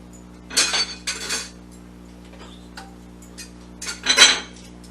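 A utensil clinks and scrapes against a metal sheet pan while sausage and vegetables are flipped and coated, several distinct clattering bursts separated by quiet pauses.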